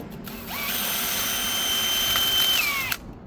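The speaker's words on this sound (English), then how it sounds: "is we just drilling out the hole a little bit." A power drill spins up, whines steadily for about two seconds while boring a hole, then winds down and stops.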